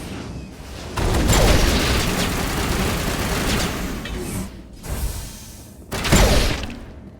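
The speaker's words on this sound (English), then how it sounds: "The explosion doesn't damage me." Explosions and gunfire from the video game Mass Effect: a loud broadband blast bursts in near one second and rumbles on, then a second sharp blast hits near six seconds, with no talk over it.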